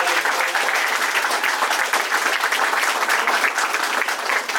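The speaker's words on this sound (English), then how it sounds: "Can we just clap for the boy one more time?" Audience at a live event in Raymore, Missouri claps for a speaker, a dense, loud burst of applause from the crowd that holds steady for several seconds.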